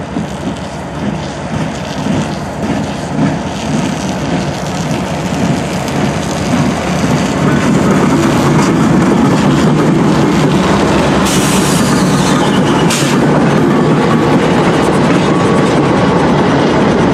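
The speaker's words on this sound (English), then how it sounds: "Here we see NS-26Z as it crosses the Norfolk Southern Avenue Bridge." Norfolk Southern freight train NS-26Z rolls past near LM Cabin in sleet, a loud, steady rumble and rattle of cars with wheel noise and a couple of brief higher screeches, continuous for the whole stretch.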